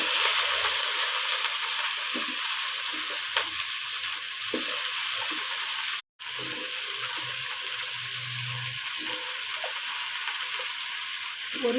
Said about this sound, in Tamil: கொஞ்சோண்டு சீரகம் போட்டு கருவேப்பிலை வெங்காயம் போட்டு வெங்காயத்தை நல்லா இந்த மாதிரி வதக்கிக்கோங்க